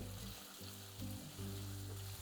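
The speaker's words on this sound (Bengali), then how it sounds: "আলুগুলোকে এখানে আপনাদের একদম লাল লাল করে ভেজে নিতে হবে" Faint, even sizzling of potato pieces frying in mustard oil sits under a steady low hum, quiet and continuous with no voices.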